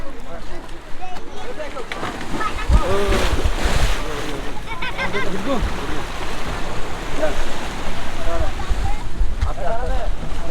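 A speedboat ride at Potenga sea beach in Chittagong, with a steady engine drone, wind buffeting the microphone and water slapping the hull throughout, while people talk over it.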